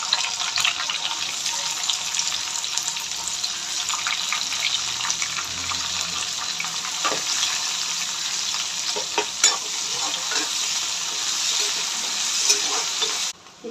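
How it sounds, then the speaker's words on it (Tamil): Curry leaves and onions frying in oil in a pan after mustard seeds, a continuous bright crackling sizzle with occasional stirring clicks throughout. "கருவேப்பிலை போட்டுட்டு வெங்காயம் போட்டுக்கலாம்."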